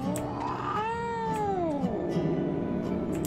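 Cat in the video game DreadOut 2 giving a long, drawn-out meow that rises and falls, close and clear over a low ambient background, with faint clicks.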